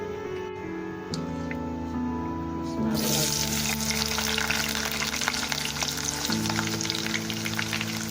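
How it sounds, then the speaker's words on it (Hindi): Sliced potatoes are frying in oil with a steady, dense sizzle that swells louder around the midpoint and keeps crackling close up, while a low hum runs underneath. "अब इसको जो है वो इसको फ्राई करते हैं हम उसी ऑयल के अंदर"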